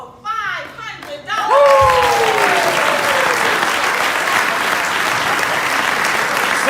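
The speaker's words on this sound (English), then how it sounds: "Give him a hand" An audience at a Nation of Islam fundraising talk in Los Angeles breaks into loud, sustained applause for an assistant student minister, following a brief vocal moment before the clapping swells.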